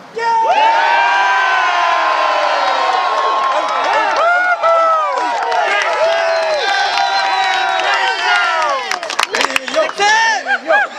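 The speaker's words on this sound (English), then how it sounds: "I want to hear you guys scream at the top of your lungs for Texas" A large crowd at the Texas Independence Rally outside the Texas State Capitol erupts in loud, continuous cheering, whooping and screaming for Texas, the roar staying dense for the whole stretch.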